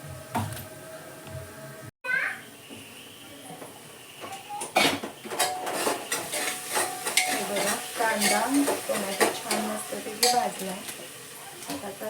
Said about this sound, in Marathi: कांदा टोमॅटो मस्त भाजू द्यायचा